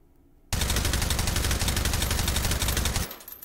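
Suppressed AK-12 rifle in the VR shooting game H3VR firing one long, rapid automatic burst of muffled, evenly spaced shots, loud and close, cutting off sharply with a brief mechanical tail and no speech.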